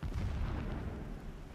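Explosive blasting in the game Horizon Zero Dawn makes a deep, sustained rumbling boom, loud and continuous throughout with no voices.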